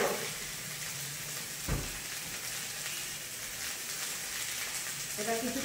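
Spices with ginger, coriander-cumin powder, salt, chili and turmeric sauté alongside potato and pointed gourd in a pan, giving a steady, moderate sizzle throughout with a brief clatter partway through.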